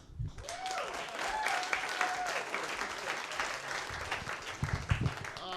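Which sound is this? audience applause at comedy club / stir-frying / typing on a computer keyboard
audience applause at comedy club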